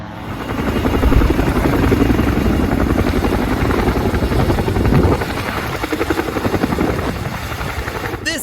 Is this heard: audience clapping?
no